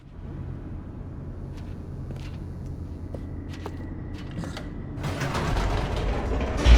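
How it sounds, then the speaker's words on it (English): An elevator descends in The Stanley Parable, a steady mechanical creaking and grinding of gears and cables that swells louder toward the end. "The elevator raced downward, plummeting towards an unknown fate"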